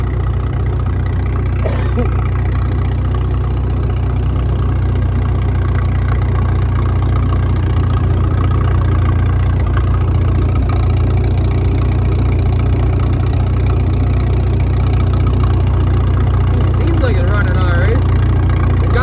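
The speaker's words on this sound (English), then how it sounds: "putting on the Baker fan, letting it bang away for a couple of minutes" An old engine, likely a John Deere at a Georgian Bay steam show, labors steadily under load from a Baker fan, a loud continuous low rumble with a persistent throb; voices murmur faintly in the background.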